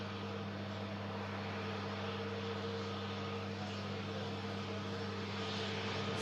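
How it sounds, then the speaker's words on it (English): An EasyJet A320neo arriving at Manchester from Thessaloniki makes a steady engine drone with a strong low hum, sounding close and continuous for about six seconds with no voices. "EasyJet arriving in from Thessaloniki, following 3 hours and 10 minutes of flight time on this EasyJet Neo."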